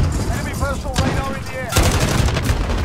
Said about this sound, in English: I was really missing playing with the Holger light machine gun